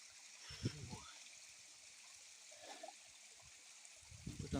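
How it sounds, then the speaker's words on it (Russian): A steady wash of rushing water from a stream at a lower waterfall runs faintly throughout, with brief bursts of voice and breathing breaking in at the start and end. "Это Наташкин нижний водопад."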